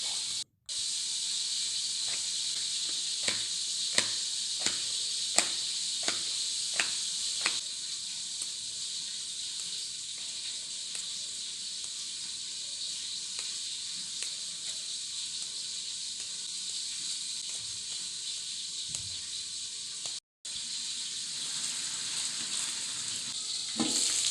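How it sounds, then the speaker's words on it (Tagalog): Fish frying in a pan of hot oil gives a steady loud hiss that runs throughout, with scattered pops and crackles in the first few seconds and two brief dropouts. "ito nagpiprito na ako dyan"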